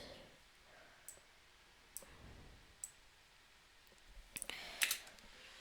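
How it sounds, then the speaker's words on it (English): Scattered computer keyboard key clicks during a strategy game session, sparse single taps spread out, then a denser, louder cluster of clacks near the end, fairly quiet against a low background hum. "accidentally clicked one of my keys as I clacked it or something"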